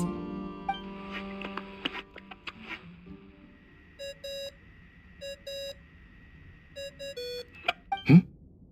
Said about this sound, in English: I really hate that ringing tone.